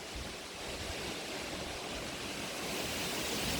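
Strong wind blows outdoors on a sunny morning, a loud, steady broadband roar that holds constant and swells slightly toward the end, with no voices.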